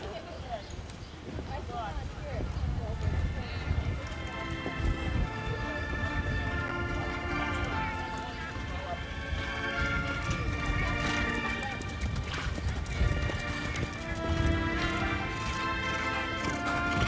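Horses canter around a horse show arena, their rhythmic hoofbeats thudding steadily over a busy, echoing background, while a voice talks over the scene.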